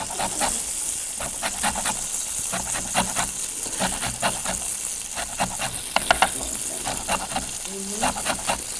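Lemon zest is scraped off a hard lemon on a grater in a home kitchen, giving repeated quick rasping strokes in irregular bursts, close and moderately loud, with a faint low background hum.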